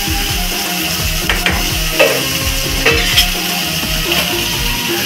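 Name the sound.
prawn masala boiling and cooking in pan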